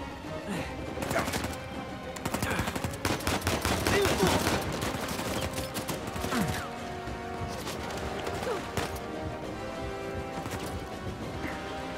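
Gunfire in an Uncharted 4 battle, rapid shots and impacts clustered in the first half, loud and close, then a steadier layer of game noise and music, with no one speaking over it.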